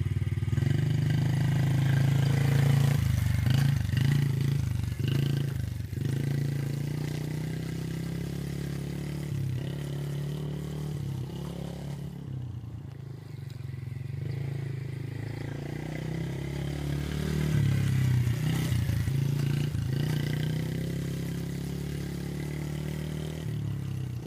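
A Yamaha TTR50 dirt bike running laps gives off a buzzing small-engine drone that rises and falls with revving, fading a little in the middle before building again.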